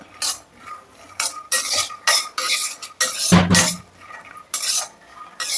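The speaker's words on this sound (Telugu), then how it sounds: "ఇంకా పల్లీలు కూడా మంచిగా ఫ్రై అవుతున్నాయి సిమ్లో పెట్టి చేస్తున్నాం" Peanuts frying in a pan over a low flame for dry fruit laddu, with repeated stirring scrapes and clinks of a utensil against the pan in uneven bursts and a faint sizzle between them, close and fairly loud.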